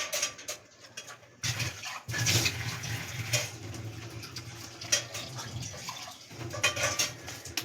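Hands washed under running tap water in a kitchen, a fairly quiet, uneven splashing and trickling stream with brief breaks and rubbing, no voices.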